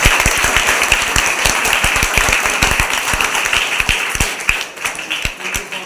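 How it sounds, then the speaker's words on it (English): Applause at Belgaum Public School welcoming a guest for a Vedic maths orientation: dense, steady clapping from a hall audience with sharp individual claps standing out, thinning slightly toward the end. "So please welcome him with a round of applause."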